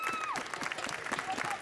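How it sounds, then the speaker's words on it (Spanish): An audience claps in a burst of applause at a singing performance event, dense and continuous for under two seconds, with voices mixed in over it. "forte aplauso para ela."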